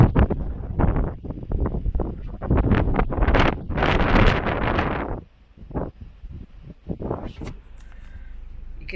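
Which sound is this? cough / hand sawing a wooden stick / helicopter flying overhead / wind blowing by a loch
wind blowing by a loch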